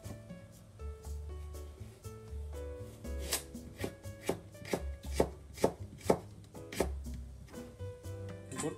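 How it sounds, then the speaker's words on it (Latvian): Rapid, steady knife chops cutting a carrot into matchsticks on a cutting board, crisp close taps speeding into a regular rhythm, with no talking. "Griežam sērkociņa, izmēra tādos stienīšos."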